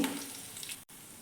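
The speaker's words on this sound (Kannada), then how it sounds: "ಎರಡು ನಿಮಿಷ ಇದನ್ನೆಲ್ಲ ನಾನು ಚೆನ್ನಾಗಿ ಫ್ರೈ ಮಾಡ್ಕೋತೀನಿ" Raisins, cashews and curry leaves fry in hot oil in a pan, making a steady, close sizzle that cuts out briefly near the end before resuming.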